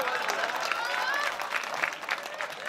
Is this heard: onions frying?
no